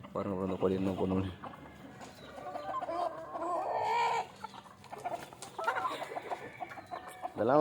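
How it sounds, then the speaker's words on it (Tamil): Chickens on a small home poultry setup cluck and squawk in short, close bursts, with someone talking over and between the calls. "பாருங்க ப்ரோ அந்த கோழி என்ன பண்ணுவேன்."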